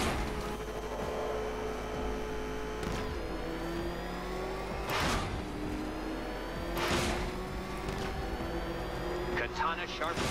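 Batmobile engine racing around the Riddler race track in Batman: Arkham Knight, a steady high engine whine with shifting pitch and several sharp revving surges, under a player's voice.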